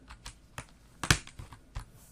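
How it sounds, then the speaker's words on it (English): Small plastic keycaps being snapped back onto a computer keyboard, a series of sharp, close clicks and taps at an uneven rhythm, the loudest snap near the middle, with no talk. "Now we'll put these little bitty keys back on."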